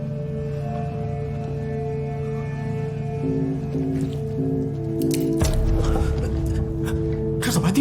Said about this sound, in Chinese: 这怎么还滴水啊